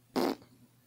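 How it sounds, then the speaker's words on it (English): A single short, loud fart bursts out for about a fifth of a second, close and alone, then fades into quiet room tone. "did you fart?"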